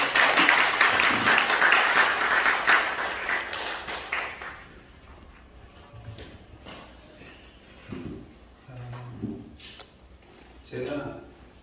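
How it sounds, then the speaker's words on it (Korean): A seminar audience at a church-planting evangelism seminar breaks into loud, dense applause for about four seconds, then it fades out and a voice begins talking with some shuffling and light taps. "우리 나오실 때 큰 박수 하겠습니다"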